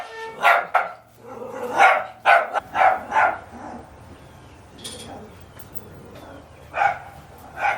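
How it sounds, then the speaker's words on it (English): A dog near horse stalls barks repeatedly in short, loud, close bursts, with yips and a lull between volleys, over faint background noise. "Roscoe does not bark at Blaze when she comes out of the stall, only Lee and Jazz."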